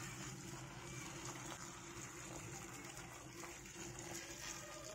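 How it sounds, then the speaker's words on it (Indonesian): Hot water pours into a container of plastic aquarium filter bioballs mixed with dish soap, a steady rushing gush that continues evenly throughout at close range. "Kemudian kita siram air panas."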